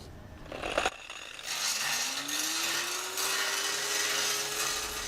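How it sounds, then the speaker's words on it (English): An angle grinder runs along a welded metal joint, spinning up after a brief rattle into a loud, hissing, abrasive whine with a slowly rising tone that holds steady to the end, close by. "Then you get a grinder. You must follow the joint, how it has been welded."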